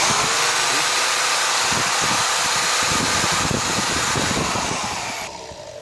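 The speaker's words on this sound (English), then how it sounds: "And on this jigsaw, it's also the same." An electric jigsaw motor runs steadily with a loud whirring hum and rapid low rattling, then cuts down near the end.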